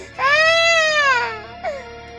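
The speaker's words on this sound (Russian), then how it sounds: "среди которых иногда можно было слышать громкий детский крик." A loud child's scream rises sharply and wails for about a second before breaking off, followed by a brief second cry, close and piercing with no talk.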